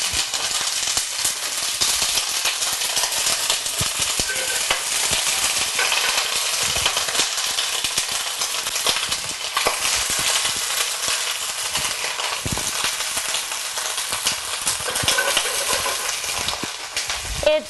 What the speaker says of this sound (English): This is going to sizzle and spit a little bit when I put it in